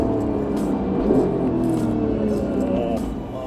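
A Porsche 911 GT3 with a PDK gearbox and a high-revving engine pulls hard under acceleration, its rising, buzzing engine note loud and close beneath excited talking.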